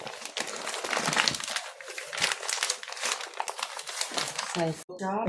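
Paper crinkles and crackles steadily up close as it is folded around something, and a voice briefly speaks at the end.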